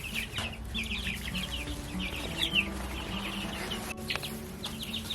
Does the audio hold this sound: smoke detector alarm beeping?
no